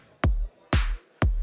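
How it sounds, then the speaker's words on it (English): Three separate snare drum hits from a Rodec MX Modular mixer, each followed by a reverb tail that rings out briefly; the middle hit has a brighter, longer wash. "Let's put some reverb on that snare."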